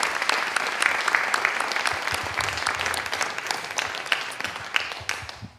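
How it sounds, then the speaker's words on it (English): Sustained audience applause after a community Founders Day concert, a dense, steady wash of many hands clapping that continues loudly and evenly from start to finish with no speech over it. "How about another round of applause for all our performers tonight?"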